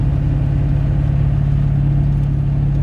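A Chevrolet LB7 Duramax diesel pickup truck engine drones steadily at a low pitch while accelerating, close and loud, with no voices.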